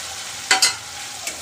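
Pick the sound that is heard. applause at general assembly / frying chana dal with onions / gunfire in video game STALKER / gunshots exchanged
frying chana dal with onions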